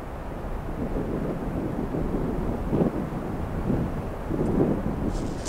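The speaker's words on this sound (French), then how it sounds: "Et soudain la tempête forcit et nous assaille." Storm wind roars steadily across a marble-like glacier cut by crevasses, a dense, rumbling wash with stronger gusts swelling around the middle and near the end.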